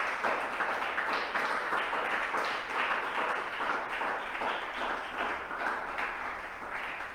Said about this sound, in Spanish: Dame un aplauso al Espíritu.